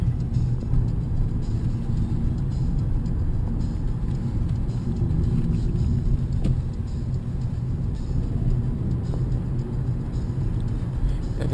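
Steady engine drone and road rumble from inside a 2011 Hyundai Elantra with a 1.8 engine, holding a constant loud level as the car pulls along with no talking.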